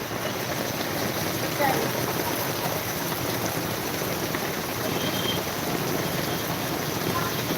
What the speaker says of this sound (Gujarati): ખંભાળિયામાં ધોધમાર વરસાદ પડી રહ્યું છે